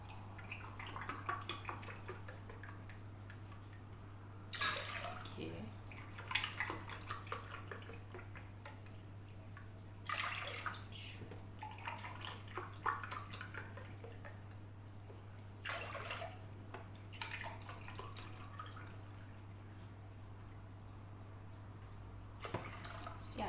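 Milk pours into a pot for a homemade chocolate cake, with liquid splashing and dripping in short bursts alongside occasional sharp clinks of the pot and utensils, close by in a kitchen with a steady low hum underneath.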